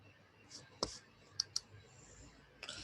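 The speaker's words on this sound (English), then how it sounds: "Let me just click on advanced." Computer mouse clicks on a search page: a few faint, sharp, isolated clicks spaced irregularly against a quiet background.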